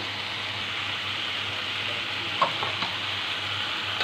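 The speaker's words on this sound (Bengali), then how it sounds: "এবার আমি কিছুক্ষণ এটাকে নেড়ে চেড়ে মিক্স করে নেব" Teasel gourd sizzling in a pan as it is stirred, a steady, soft frying hiss with a couple of faint scraping knocks from the spoon, no voices.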